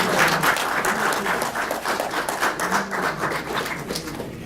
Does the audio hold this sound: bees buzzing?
no